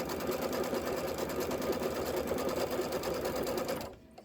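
A sewing machine stitches steadily through a quilt's flange and border on a Kimberbell Lucky Us project, a loud continuous mechanical whir that runs without pause before stopping abruptly near the end.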